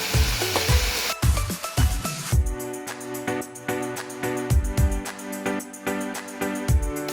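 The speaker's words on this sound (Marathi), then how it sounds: "हे बघा, आपला कांदा छानपैकी फ्राय झालेला आहे." Onion frying in a pan for a dry prawn fry, a loud hiss of sizzling oil broken by repeated scraping and stirring strokes, heard close with no talking.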